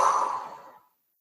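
A single slow exhale during a breathing exercise, a soft, breathy whoosh close to the microphone that fades out over less than a second into silence.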